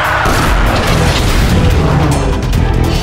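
Loud, continuous explosive boom and rumble from a micro missile attack in a Hindi animated car racing cartoon, filling the whole stretch with dense, sustained blast noise and no speech.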